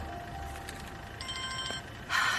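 A telephone rings indoors with a bright electronic trill, a few short repeated bursts over quiet room tone in a dramatic scene.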